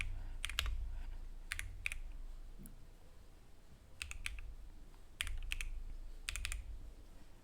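Quiet, close typing on a computer keyboard while entering a Sims 4 mod name, several short bursts of rapid clicking keystrokes separated by brief pauses.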